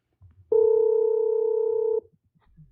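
A single steady electronic phone tone, a pure beep held for about a second and a half, loud and clear against near silence.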